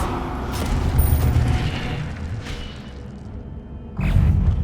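Incendio fire spell from Hogwarts Legacy, a dense roaring whoosh of flame with low rumbling bursts, loud and continuous, swelling again near the end.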